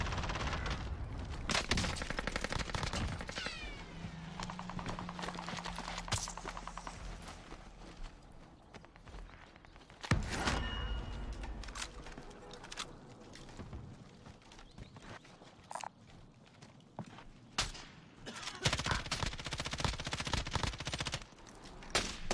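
Gunfire from Call of Duty Warzone rings out in sharp bursts and single shots scattered across the stretch, with loud cracks separated by quieter gaps and footstep-like clatter between.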